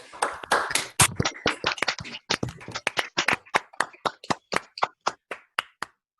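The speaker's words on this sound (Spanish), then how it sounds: "Invito a todos a abrir sus micrófonos y aplaudir" Scattered claps from an online lecture audience coming through open microphones, starting as a brief overlapping burst and thinning into a steady series of single sharp hand claps, close and dry, with no talking.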